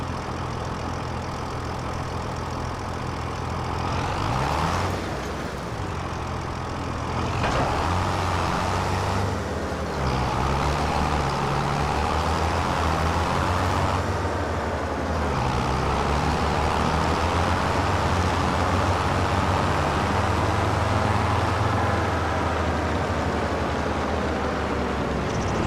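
A farm vehicle in Farming Simulator 25 drives steadily, its engine droning continuously at close range with small shifts in pitch and load throughout, and no talking over it.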